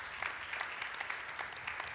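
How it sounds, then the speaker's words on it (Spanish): A church congregation claps together during a sermon, a steady crowd of overlapping handclaps with a quick, even rhythm, moderately loud and sustained throughout without talk over it. "Le das aplausos, Señor."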